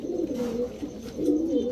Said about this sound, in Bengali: লাল গিয়ারের লাল গররা মাদি কবুতর।